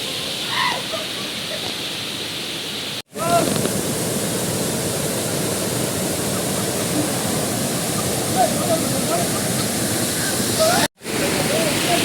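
A small roadside waterfall near Sringeri pours down with force, a steady, loud, close roar of rushing water that fills the whole stretch, broken by two brief cuts.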